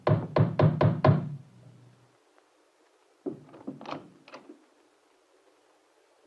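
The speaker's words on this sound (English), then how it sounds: "At midnight, there was a knock on his door." Five quick, firm knocks on a door at midnight, close and loud, followed after a pause by a few softer scattered knocks and rattles.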